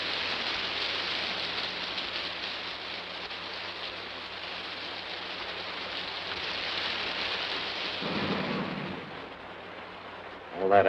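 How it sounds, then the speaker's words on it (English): Steady rain pours down outdoors in a 1950s post-apocalyptic film scene, a dense continuous hiss that holds throughout before a brief rumble near the end. "the lousy rain's got to finish us off."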